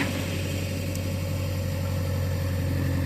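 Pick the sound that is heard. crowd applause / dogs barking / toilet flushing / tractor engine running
tractor engine running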